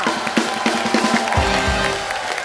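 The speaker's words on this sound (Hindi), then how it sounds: "एक बार ब्रावो और रवीना के लिए जोरदार तालियां" Studio audience at a televised Hindi comedy talk show, The Kapil Sharma Show, applauding and cheering for guests Raveena and Bravo; dense, steady clapping and crowd noise fill the stretch, with brief musical tones underneath.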